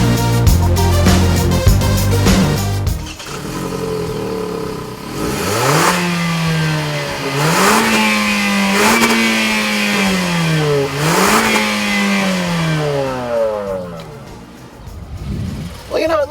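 A 2014 Hyundai Elantra Coupe engine revs repeatedly toward its roughly 6,600 RPM redline, the pitch rising and falling in four or five loud sweeps after a stretch of other noise at the start.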